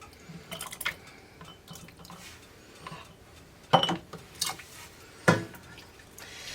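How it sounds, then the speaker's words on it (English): Homemade American goulash spooned into glass canning jars, giving scattered clinks and knocks of a utensil against glass, a few sharper taps standing out over a quiet background with soft wet plops between them. "now I'm going to fill my jars with my goulash to a 1-inch headspace"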